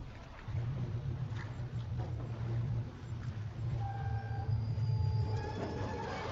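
A train rumbles steadily in the video game God of War Ragnarök, with a low continuous drone and faint metallic squeals and tones rising toward the end, heard alone without talk.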